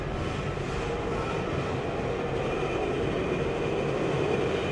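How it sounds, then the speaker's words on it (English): A train in the Planet Coaster park-building game rolls into a station with a steady, loud rumbling roar and faint rail clatter, continuous and alone throughout. "These are all the new recruits just arriving on the train."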